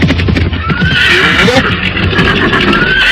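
A horse whinnies loudly and close as horses are ridden fast toward a royal city, with hoof clip-clop and a rushing bustle underneath throughout.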